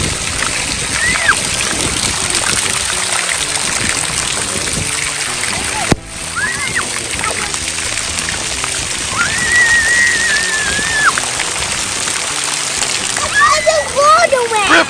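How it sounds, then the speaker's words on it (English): Steady rushing heavy hurricane rain fills the whole stretch, splashing and spattering throughout, with a voice chiming in over it and a brief dip midway. "I can see hurricane rain."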